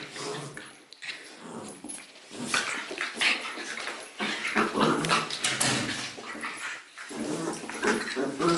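Two dogs, one part greyhound, play roughly up close, giving repeated whimpers, whines and snuffling grunts in bursts of varying loudness, with no speech over them.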